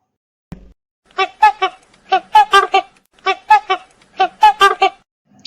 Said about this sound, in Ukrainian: Лебідь крякає.